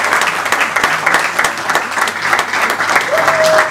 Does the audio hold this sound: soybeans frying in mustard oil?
no